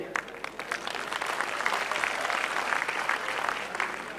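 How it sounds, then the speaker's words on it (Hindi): A crowd applauds steadily at a ceremony in India, dense clapping from many hands that holds at an even level throughout. "माननीय नरेंद्र सिंह तोमर जी को चाहता हूं एक बार करतल ध्वनि से"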